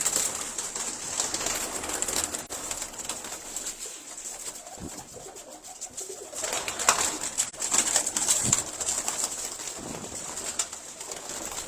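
Pigeons kept for sale coo softly and repeatedly in a loft, with low throaty calls rising now and then over a steady background hiss, and occasional faint rustling.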